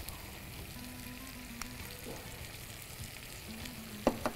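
Grated coconut stirred and sautéed in a pan with brinjal and drumstick, producing a faint, even sizzle with a couple of soft scraping knocks near the end.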